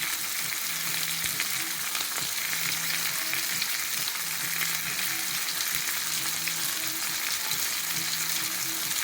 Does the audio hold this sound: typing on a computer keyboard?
no